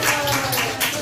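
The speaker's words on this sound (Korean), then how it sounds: "인형극 다 같이 박수." Audience at a church puppet show claps together, a dense continuous patter of many hands filling the whole moment, fairly loud and steady with no talk over it.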